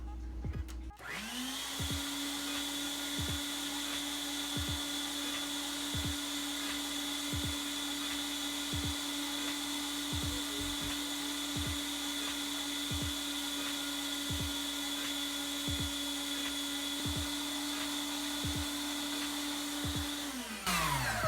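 A sausage-making machine's electric motor starts and runs at a steady, loud whir for about twenty seconds, with faint regular clicks ticking underneath and no talk.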